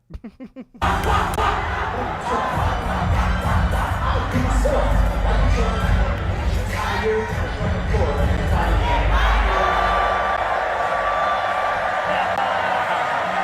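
A large concert crowd cheers and screams, a loud sustained roar of voices and whoops that bursts in after a short quiet opening and continues strongly throughout.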